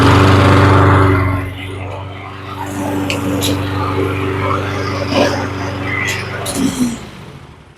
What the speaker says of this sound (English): That's a pretty happy little mower.